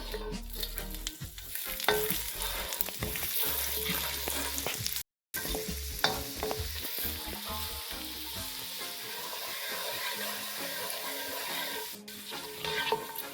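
Fresh ginger frying in hot oil in a pot for shrimp curry, a busy, close sizzle with spoon stirring and scraping throughout, a brief cut midway, and softer crackle toward the end.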